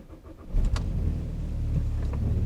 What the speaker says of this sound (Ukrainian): ми в Volkswagen зараз запустимо мотор